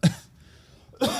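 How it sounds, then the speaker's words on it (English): Two sharp, close coughs about a second apart, separated by a brief quiet pause. "Cough right at you."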